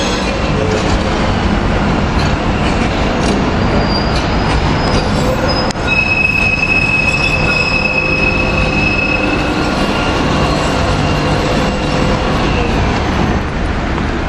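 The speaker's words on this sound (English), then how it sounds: "Here's two T-68 or T-68 trams." A steady rumble of T-68 trams rolling along track in Manchester, with high metallic wheel squeals drawing out near the middle, loud and continuous.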